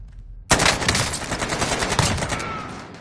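Rapid automatic gunfire in the video game Call of Duty Warzone bursts in suddenly and stays loud and close, a dense sustained volley with no talking.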